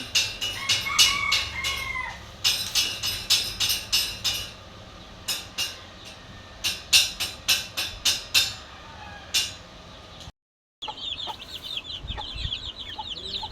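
Chickens in a backyard pen cluck in a rapid series of sharp calls, with several rooster crows standing out over the steady rural background, followed by a brief silent gap and then more scattered bird calls.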